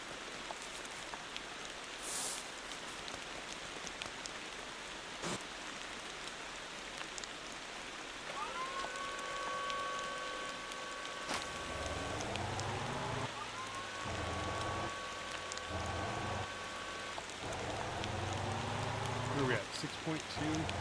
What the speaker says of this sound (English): And we're back to the rain again.